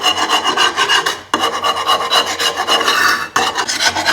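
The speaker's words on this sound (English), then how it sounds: "I'm just going to give it a quick wire brush." Wire brush scrubbing grass crud off the blade mount of a Honda HRU216 mower, a loud, close, rhythmic rasping in steady back-and-forth strokes with two brief pauses.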